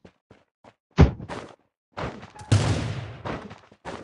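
Gunfire in the video game Rules of Survival: a single hard shot followed by a brief burst of rapid shots, loud and close, amid short thuds and scattered game noise.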